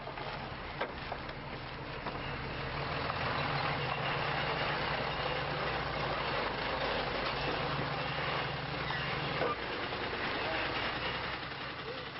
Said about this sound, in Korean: 대형 트럭이 병아리 4만 마리를 싣고 이곳으로 도착했다.